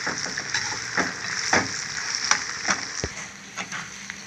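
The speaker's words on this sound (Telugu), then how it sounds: "అవి తగులుతుంటుంటే మిరపకాయలు వేగి ఫ్రై అవుతుంది అనమాట మాడిపోకుండా అలాగా ఫ్రై అవుతాయి" Lentils and red chillies frying in hot oil for a curry leaf pickle crackle and sizzle continuously up close, broken by sharp pops and the scrape of stirring at irregular moments.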